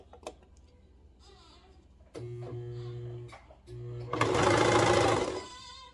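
A home sewing machine stitches a seam on a toddler's reversible swimsuit, running in two short whirring bursts and then a louder, faster run, with faint clicks and soft handling sounds between stops.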